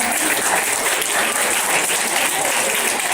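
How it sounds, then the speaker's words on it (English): An audience at an alumni meet for nursing and allied health graduates breaks into applause, a continuous, even roar of many hands clapping with no pauses. "Can you give a round of applause?"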